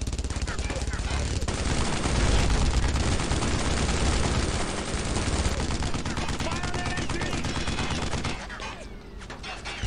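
Sustained machine gun fire and battle gunfire from the World War II video game Brothers in Arms: Road to Hill 30, loud and continuous for nearly ten seconds, with rapid bursts layered over each other and a voice shouting beneath the shooting.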